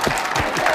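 A studio audience claps briefly, a dense burst of applause that stays steady and fairly loud throughout.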